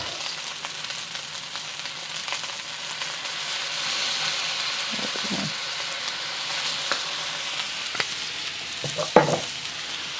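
Beef fried rice being stir-fried in a hot pan, a steady sizzle with occasional scraping and tossing bursts from the spatula, close and continuous, with no talking.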